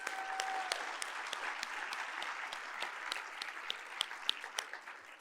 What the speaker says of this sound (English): just a round of applause for our 2024 campaign chairs